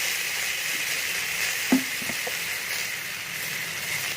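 Ash gourd sizzling in a pan with salt, a steady frying hiss throughout and one brief stir or scrape near the middle, no voices.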